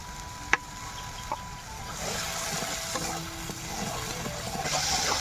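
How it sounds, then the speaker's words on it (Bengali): Spice paste sautéing in a pot over a wood and charcoal clay stove in a village kitchen, a steady sizzle that swells and grows fuller toward the end, with a few sharp knocks and faint bird clucks in the background. "মা মশলা কষাতে থাকলো যে পর্যন্ত মশলা থেকে তেল না ছাড়ছে।"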